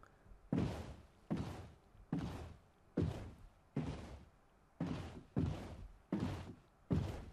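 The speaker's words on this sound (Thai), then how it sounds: "อันนี้ก็คือเสียงเรือพายบนบกครับ" Minecraft boat dragged across land, a video game effect: a faint, evenly spaced series of about nine hollow wooden thunks, each with a short scraping tail, repeating steadily with no talking.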